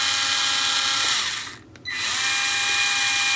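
A Worx 4-volt three-speed cordless screwdriver runs at its max setting with a steady high-pitched motor whine, briefly dipping nearly to silence midway before spinning back up at full, close and loud.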